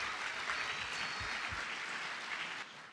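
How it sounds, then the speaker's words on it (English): Steady applause from a crowd at a high school varsity athletic awards ceremony, a dense wash of clapping that holds evenly for about two and a half seconds and then drops off slightly near the end. "Please give yourselves a round of applause."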